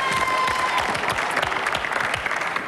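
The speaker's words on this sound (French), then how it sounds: "Quelques applaudissements pour nos deux équipes qui nous ont animés cette soirée." Studio audience applauding two teams at the close of an evening French television quiz show, a steady, fairly loud wash of clapping that carries on throughout.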